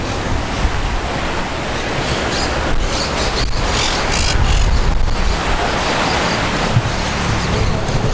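Ocean waves wash onto the beach at Benalmádena in a steady surf roar, with soft swells rising and falling and some wind buffeting the microphone.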